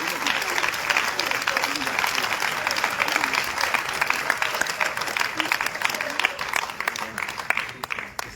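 A church congregation applauds and cheers loudly during a fervent French-language worship service, a dense, steady wash of clapping with voices mixed in that holds for the whole stretch.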